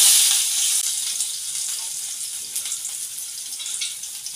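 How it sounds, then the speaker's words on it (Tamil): Chopped onions hitting hot oil with mustard seeds already popped, a bright loud sizzle at first that settles into a steady hissing fry, close up with a few faint crackles, no talk. "இப்போ கட் பண்ணி வச்சுக்கிற வெங்காயத்தை சேர்த்துக்கலாம்."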